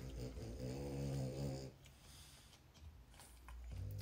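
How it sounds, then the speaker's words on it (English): A dog snores with a deep, rumbling drawn-out breath for about a second and a half, then quieter breathing and low background noise, close by. "They're snoring on purpose."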